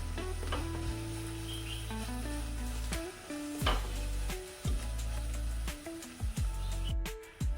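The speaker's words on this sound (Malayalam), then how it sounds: "ഇനി ഇതെല്ലാം മൂക്കുന്ന വരെ വഴറ്റുക" Turmeric, chilli and pepper powders sauté in a pan for a bitter gourd theeyal, a steady close sizzle with recurring scrapes and clinks as they are stirred, no voices.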